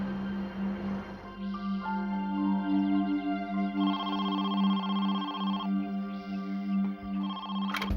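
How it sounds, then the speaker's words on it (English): A telephone rings in a repeating electronic pattern of bright tonal bursts, moderately loud over a steady low hum, continuing for several seconds. "5 days after Regina's disappearance, Carolyn received a phone call"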